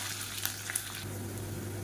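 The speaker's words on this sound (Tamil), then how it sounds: "கருவேப்பிலை வெடிக்க ஆரம்பிக்குது" Curry leaves and cumin crackle in hot oil for a South Indian side dish, with a few sharp little pops over a faint, steady sizzle, close and fairly quiet.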